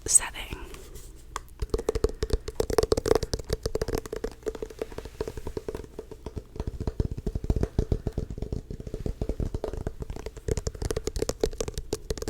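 Rapid, dense fingertip tapping on a Blue Yeti microphone, close and dry, continuing in quick irregular bursts for several seconds.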